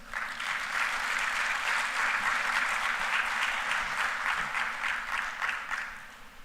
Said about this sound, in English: Another round of applause for the head of European delegation